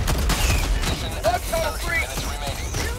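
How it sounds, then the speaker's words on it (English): Incendiary shotgun blasts in a video game firefight, dense booming shots and game effects under loud, continuous voice chat across the whole stretch. "I love this damn incendiary shotgun."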